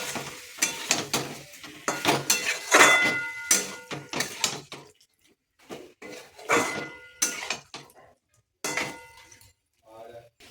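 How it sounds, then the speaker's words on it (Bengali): Prawns frying and being stirred into cooked-down spice masala in a pan for a yogurt and coriander prawn dish, giving irregular scraping and sizzling bursts across the stretch, with short pauses between strokes. "এবার চিংড়ি মাছগুলো দিয়ে দেবো, দিয়ে ভালো করে কষিয়ে নেব।"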